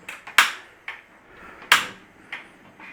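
Several sharp metallic clunks and clacks ring out at irregular intervals as a lid is set and shifted on a pot of onions and boiling water, close and alone.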